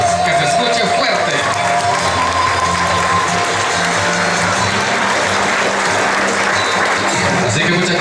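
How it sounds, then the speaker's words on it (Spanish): Steady loud applause from a crowd at a golden wedding anniversary celebration in Cuilapa, Santa Rosa, continuous clapping filling the room with crowd noise mixed in. "ahora sí les voy a pedir un fuerte aplauso para todos ellos."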